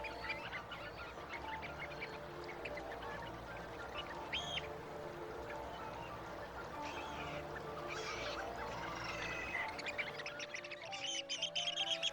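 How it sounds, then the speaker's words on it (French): Black-headed gulls at a nesting colony on the water, with dense, continuous overlapping calls and chatter from many birds throughout, steady and fairly loud, with no talking. "La mouette rieuse, elle aussi très commune, construit son nid à la surface de l'eau,"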